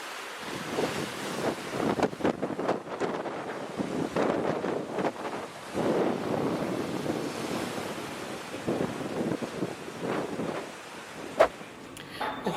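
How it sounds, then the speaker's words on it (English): Strong wind buffets the microphone at a beach on Magnetic Island, producing continuous rough rumbling gusts with surf-like washes rising and falling throughout, loud and close with no speech. "it's a bit windy"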